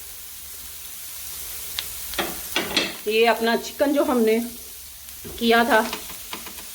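Shredded chicken hits a hot pan with frying spices for crispy Chinese kababs, sizzling steadily with several louder bursts of sizzle and spoon stirring, while a voice speaks briefly.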